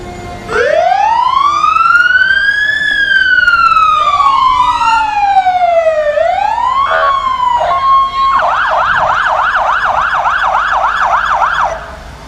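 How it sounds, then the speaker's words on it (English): A New Richland Fire Department siren in a street parade: a loud, close wail sweeps slowly up and down, then switches to a rapid, steady yelp that runs to the end, with no talking. "a few of the guys that are just laying on that siren"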